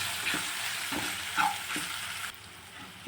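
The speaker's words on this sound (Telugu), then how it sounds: "కొంచెం పసుపు, ఉప్పు కొంచెం మిక్స్ చేసుకోవాలి." Tomatoes cooked with turmeric, salt and ginger-garlic paste in a frying pan give a loud, steady sizzle, with rhythmic spoon strokes scraping through at regular intervals.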